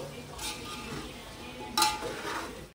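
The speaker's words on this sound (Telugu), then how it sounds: "వేసుకొని నెమ్మదిగా కలుపుకోవాలి." Eggplant with chili powder and salt is stirred slowly in a pan, giving a soft scraping and a faint sizzle with a couple of brighter metallic clinks, close by and fairly quiet.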